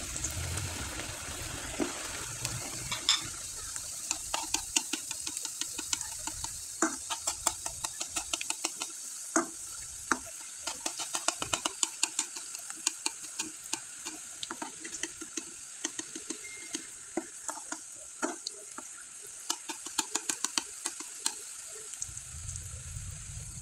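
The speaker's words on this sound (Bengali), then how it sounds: "আর এই পিঠাগুলো এখন তেলে ভেজে নেব।" Rice flour rose pitha frying in hot oil, giving a steady close crackling sizzle with dense spitting pops throughout and occasional stirring clinks, no talk.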